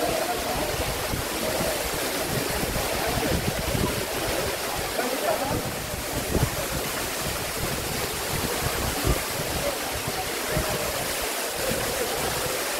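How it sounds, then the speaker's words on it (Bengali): Water of Dhuppani waterfall pours steadily in a dense, continuous rushing roar that stays close and even for the whole stretch, with no talk over it. "ঝর্ণার পানিটা বের হয়ে যাচ্ছে"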